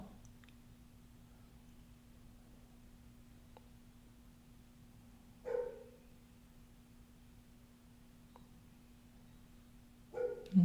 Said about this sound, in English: Can you hear my dog barking outside?